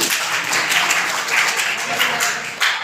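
A group gives a short burst of applause at the close of a training programme, steady overlapping claps filling the space at close range.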